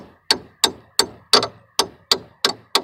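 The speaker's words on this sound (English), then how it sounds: "just gonna peck it with a little hammer" A small hammer taps repeatedly on a brake rotor of a 2003 Chevy Cavalier during a brake job, eight sharp metallic strikes at a steady rhythm, close and loud with brief ringing decay after each hit.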